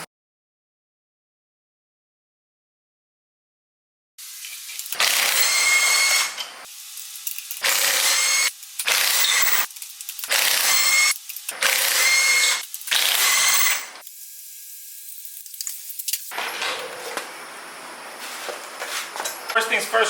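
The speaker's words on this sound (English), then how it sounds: "I just use a swivel with a ratchet or impact gun" A hand ratchet fitted with a swivel works loose the brake caliper bolts on an Escalade, Tahoe or Yukon during a six-piston Brembo brake conversion. It gives several separate bursts of close, loud ratcheting clicks with short pauses between them.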